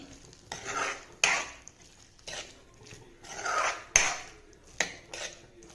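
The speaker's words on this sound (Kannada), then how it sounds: "ಕೊತ್ತಂಬರಿ ಸೊಪ್ಪು ಹಾಕಿ ಚೆನ್ನಾಗಿ ಮಿಕ್ಸ್ ಮಾಡ್ತೀನಿ" Idli manchurian being stirred and mixed with coriander leaves in a pan, a spoon scraping and clinking against the metal in several separate strokes, close and fairly loud, with no talking.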